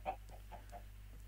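Minecraft chicken gives several short, soft clucks in an irregular rhythm over a constant low electrical hum, faint and with no talking.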